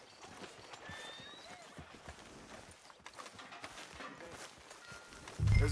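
Horse hooves clip-clopping at a walk in the Red Dead Redemption 2 video game, a steady rhythmic patter under ambient town noise, with a louder thump at the very end.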